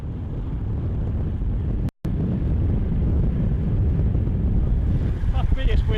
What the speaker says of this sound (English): It's windy. It is windy,